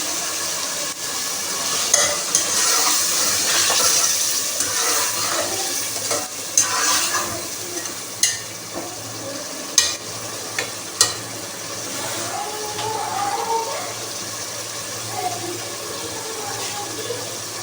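Beef pulao simmering in a pot as tamarind water is poured in, a steady bubbling sizzle with soft stirring clicks and splashes, close and moderately loud.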